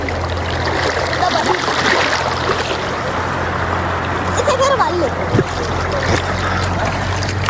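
Clear, cold water from a flowing stream rushes and trickles steadily close by, with occasional splashes from children playing in it, while people talk over the water throughout.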